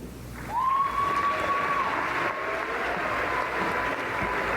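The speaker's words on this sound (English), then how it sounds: "Another round of applause for the oaths." Audience applause at a parasport games opening ceremony, a sustained patter of many hands in a large hall with a brief whistle-like tone near the start, holding steady and moderately loud.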